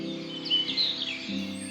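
Birds sing faintly in Marton Wood, a woodland setting, with a few thin high chirps over a steady low background hum.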